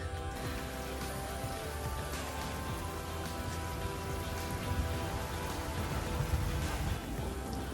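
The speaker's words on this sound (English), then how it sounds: "it's raining" Steady rain falls outdoors at a worksite where a Harbor Freight backhoe is used for trench digging, a dense continuous patter of drops on surfaces with no talking, even in level throughout.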